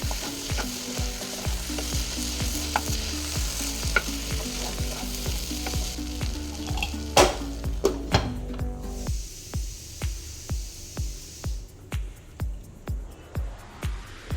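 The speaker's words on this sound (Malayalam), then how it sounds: "ഇതെല്ലാം കൂടി ഒന്ന് നന്നായിട്ടൊന്ന് മിക്സ് ചെയ്യാം എന്നിട്ട് വീണ്ടും ഒരു രണ്ട് മിനിറ്റ് മൂടി വെച്ച് കുക്ക് ചെയ്യാം മീഡിയം ഫ്ലെയിമിൽ തന്നെ" Potato stir-fry with chilli flakes sizzling in a pan while a spatula stirs and scrapes it in a steady rhythm, the frying hiss fading partway and leaving loud, regular scraping strokes.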